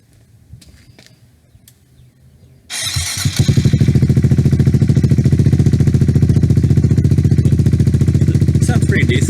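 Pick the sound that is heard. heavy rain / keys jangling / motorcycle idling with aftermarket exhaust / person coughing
motorcycle idling with aftermarket exhaust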